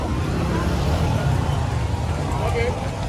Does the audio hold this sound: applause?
no